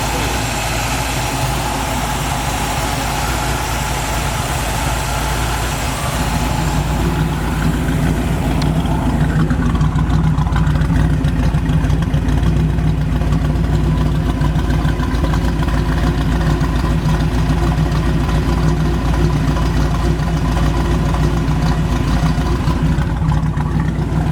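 A 1951 Ford F100 pickup with a 302 V8 and electric choke idles steadily nearby, a continuous low rumble holding even throughout with no revving.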